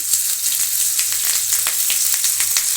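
Cloves, cinnamon and crushed ginger fry in hot oil for pulao, giving a loud, constant crackling sizzle with small pops and a few stirring sounds. No voices are heard.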